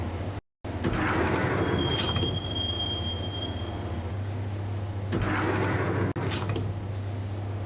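A subway train from the video game Max Payne rumbles along the rails with a loud, continuous roar, a thin high wheel squeal rising early on, and a brief dropout near the start, with no voices.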